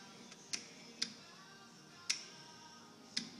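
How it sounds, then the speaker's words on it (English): A 2005 Chevy Aveo power window switch gives four faint, sharp clicks spaced irregularly over a few seconds, close by against a quiet background hum. "I don't know if you can hear that switch clicking,"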